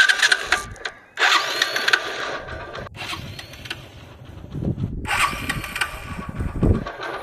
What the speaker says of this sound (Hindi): और भाई अब जो बाइक को स्टार्ट करते हैं